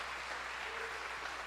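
A church congregation applauds in a steady, dense wash of clapping that holds at an even, fairly soft level throughout, with no voices standing out.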